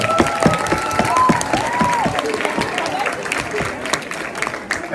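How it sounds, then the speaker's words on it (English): Middle school students clap and cheer for their district championship basketball teams, a dense burst of applause with whoops, crowd noise and a voice running over it. "Y'all give them a good round of applause."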